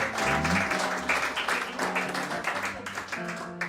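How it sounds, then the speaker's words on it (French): Audience applause at a poetry event welcoming invited guests, moderately quiet clapping blended with background music and room sound. "Merci d'avoir accepté, on les applaudit."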